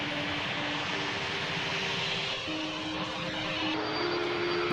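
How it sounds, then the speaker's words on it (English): Steady, broad roar of an Airbus A320neo airliner's engines as it prepares for takeoff at Lima Airport, with a faint droning hum and a near-constant level throughout. "The aircraft is a 5-year-old Airbus A320neo and it is about to take off from Lima Airport."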